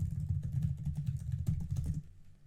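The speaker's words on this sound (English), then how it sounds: "Now just type in the password of which you set." A password is keyed in on a computer keyboard during Windows Server 2012 setup, a quick run of close, soft key clicks lasting about two seconds before stopping.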